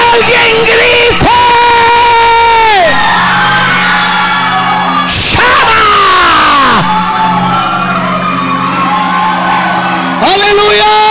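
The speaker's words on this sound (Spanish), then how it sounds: "Alguien grita." Loud shouting and whooping voices ring out in a church congregation, sustained bursts of yelling with brief breaks, full and close, over an ongoing room murmur.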